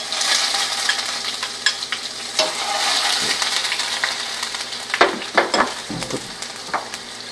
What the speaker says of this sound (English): put a little bit of olive oil in our pan and make sure that it's nice and warm. Then we are going to add to this our onions